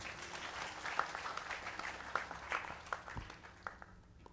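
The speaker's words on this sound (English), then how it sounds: "they deserve a round of applause" Audience applause at a Ram family gathering, a steady wash of many hands clapping at moderate distance, fading slightly toward the end.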